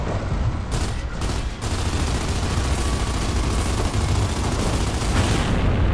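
Dense, continuous gunfire roars throughout a firefight against a turret in the video game Gears of War: Judgment, a loud wall of overlapping shots and booms with no pause, heard without speech.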